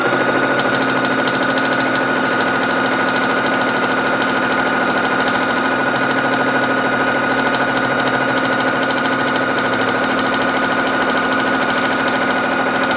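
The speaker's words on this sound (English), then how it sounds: "we're going to start sewing with the machine" A domestic sewing machine run by Grace Quiltmotion X quilting automation stitches at a steady, consistent speed, giving a loud, continuous motorized hum with a rapid even mechanical pulse that holds unchanged throughout.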